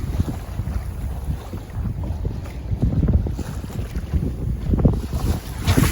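A sailboat moves along at about four knots off a rocky headland in open wind, with steady gusty wind rumble and microphone buffeting over water sounds, loud and continuous with no talking.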